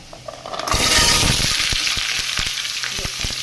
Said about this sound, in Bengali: এই যে সবজিগুলো আমি একটু ভাজবো।